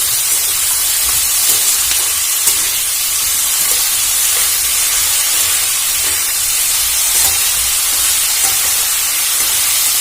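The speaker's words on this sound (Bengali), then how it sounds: "এবার উচ্ছেটা এর সাথে অ্যাড করে ভালো করে ভেজে নেব।" Chopped bitter gourd fries with onions in a pan, a loud, even, continuous hiss of sizzling oil throughout with no speech.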